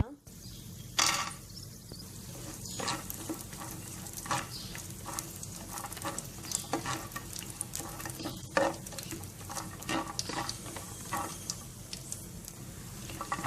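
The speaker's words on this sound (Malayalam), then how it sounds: "ഇപ്പോൾ കിസ്മിസും കാഷ്യൂവും ആവശ്യത്തിന് ഫ്രൈ ആയി കഴിഞ്ഞു." Raisins and cashews frying in ghee in a pan, with a steady soft sizzle under scattered scraping stirs and light clinks of a utensil against the pan; a voice speaks in places.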